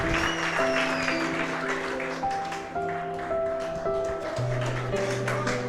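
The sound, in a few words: applause at a wedding ceremony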